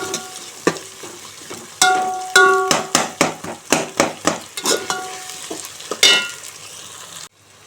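Ginger garlic paste fries with browned onions for mutton biryani, with steady sizzling broken by repeated sharp clanks and scrapes of a ladle stirring in the pot, close and fairly loud, ending abruptly.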